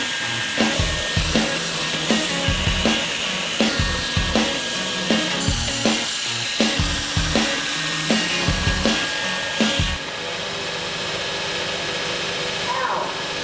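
A grinder removes stock from knife steel with a loud, steady whine, broken by regular rhythmic surges as the blade is passed back and forth, then settling into a smooth continuous tone near the end.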